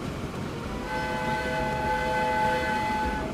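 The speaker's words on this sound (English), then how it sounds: "I didn't know if the H button would actually honk the horn or not," A steady train horn in the video game Transport Fever 2 sounds continuously, a sustained tonal blare held over a low rumbling background.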